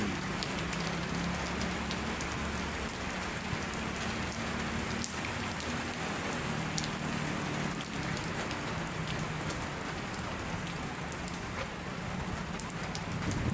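Heavy afternoon rain by Manila Bay, a loud, dense, continuous patter of drops hitting surfaces, steady throughout with no voices.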